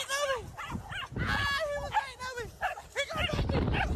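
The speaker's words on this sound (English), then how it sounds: "Little dogs are ruthless." A small dog barks and yips repeatedly in quick bursts, with whimpers between them, close and lively, mixed with human voices talking and reacting.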